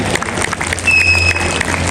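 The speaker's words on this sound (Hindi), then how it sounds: "भरपूर तालियां" Audience applause in a hall at an annual award show; dense, steady clapping with crowd noise fills the short stretch at moderate loudness, with a faint tone running through part of it.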